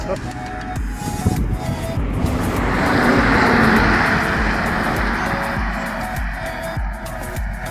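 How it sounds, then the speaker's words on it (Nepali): Road traffic on a highway where buses and cars come and go, a steady broad rumble that swells to a louder pass around the middle and eases off, with a voice speaking over it. "यहाँ चाहिँ हाइवे हो, बसहरू आउने जाने गर्छ, गाडीहरू पुग्छ"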